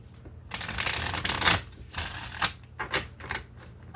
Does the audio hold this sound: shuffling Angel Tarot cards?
yes